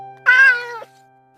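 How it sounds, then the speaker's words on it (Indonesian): A single chubby cat lets out one clear, loud meow of about half a second, close and alone against a quiet background with a faint steady hum. "Dasar kucing gembul."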